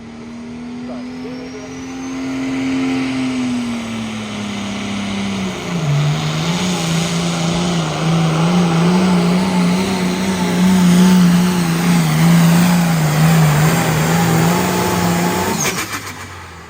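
An International Harvester IH400 unhooded test puller tractor roars down the track at a truck and tractor pull, its engine droning loud and steady with a falling then rising pitch, sustained for many seconds before cutting off abruptly, with announcer talk faintly beneath.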